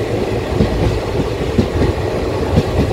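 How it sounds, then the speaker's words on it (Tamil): Riding aboard the Tiruchchirappalli Express as it enters Budalur station, a continuous loud, close rumble of rolling train wheels carries a rhythmic clickety-clack over the rail joints. "இப்போ வண்டி பூதலூர் ஸ்டேஷன் வண்டி என்டர் ஆகுது."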